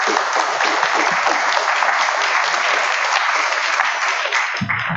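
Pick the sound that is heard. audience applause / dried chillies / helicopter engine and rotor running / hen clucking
audience applause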